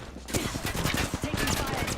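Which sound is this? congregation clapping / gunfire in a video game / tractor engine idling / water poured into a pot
gunfire in a video game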